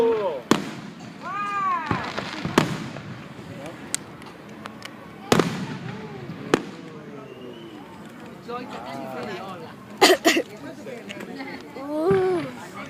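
Fireworks burst in sharp, scattered bangs across the whole stretch, some close and loud, with crackling in between, while children chatter and call out excitedly throughout.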